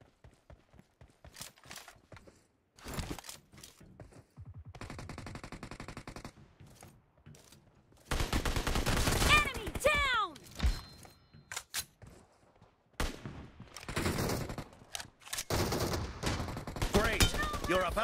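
Shotgun fire in a multiplayer shooter game, a few loud separate blasts and bursts of gunfire among other game sounds and clattering noises, with uneven spacing and loud stretches.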